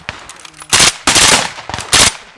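Bursts of gunfire during a school cadet force exercise: several loud, close volleys of rapid shots separated by brief pauses, with faint background noise between.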